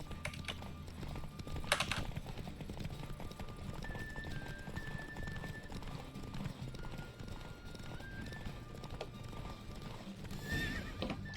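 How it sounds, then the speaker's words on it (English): Steady hoofbeats of a galloping horse in The Witcher 3: Wild Hunt drum on throughout, with a couple of loud whinnies and neighs over a busy, constant game soundscape. "Don't spare the horse."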